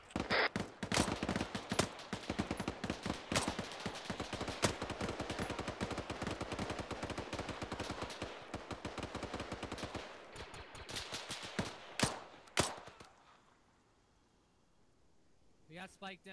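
Heavy automatic gunfire from the military shooter Arma 3, with long rapid bursts of loud shots, then sparser single cracks that trail off into quiet, with speech over the firing.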